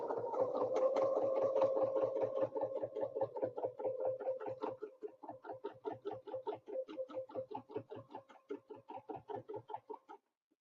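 A longarm quilting machine stitches a snowflake design guided by a ruler, its needle tapping in a fast, even rhythm, close and moderately quiet, slowing into spaced bursts before stopping.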